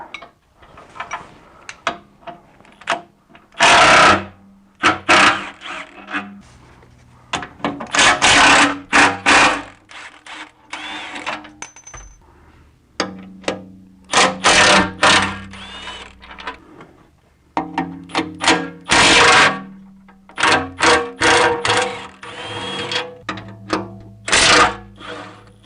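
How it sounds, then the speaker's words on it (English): Wrench work on the cover plate bolts of a BMW M62TU V8 engine during timing chain guide disassembly: bursts of metallic ratcheting and clicking, close and fairly loud, separated by short quiet gaps, with no talking. "you slip a 16 millimeter wrench up over top of each bolt so you can counter hold the nut"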